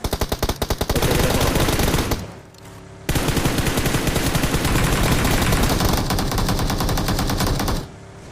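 An M16A4 rifle fires in full auto in a video game: long, dense, loud bursts of rapid shots. A brief gap falls between the first two stretches, and the firing breaks off at the end.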